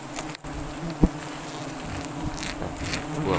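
Giant honey bees (Apis dorsata) swarm around a wild nest during honey harvesting, making a dense, steady buzz that fills the air close by, with a few soft knocks and handling noises.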